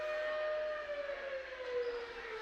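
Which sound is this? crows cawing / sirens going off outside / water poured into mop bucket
sirens going off outside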